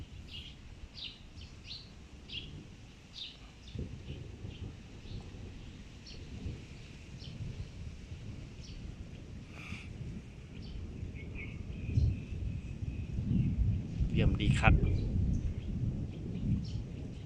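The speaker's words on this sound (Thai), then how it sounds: "มีแต่ฟ้าร้องกับลม" Low rumbling thunder rolls in the distance with gusting wind before rain, swelling louder toward the end, with scattered bird chirps and a brief spoken phrase.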